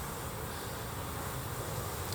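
Honey bees buzzing around an opened hive, a dense steady drone close by with no talking.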